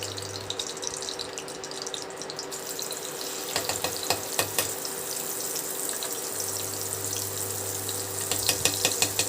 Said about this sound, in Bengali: তেলটা গরমই আছে, এখানে আমি আঁচটা কমিয়ে দিলাম, আর যে মশলাটাকে আমি মেখে রেখেছিলাম ওই মশলাটা তেলে দিয়ে দিলাম